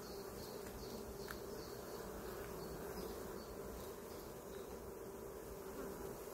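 Honeybees buzz in a dense, continuous drone over a hive frame holding pollen, nectar and large larvae, with the whole swarm steady and close throughout.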